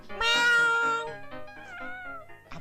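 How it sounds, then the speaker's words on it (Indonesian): A cat meows loudly and close by, one long drawn-out yowl followed by a wavering, complaining second meow and a short final chirp, with no one talking. "kucing saya memang nakal"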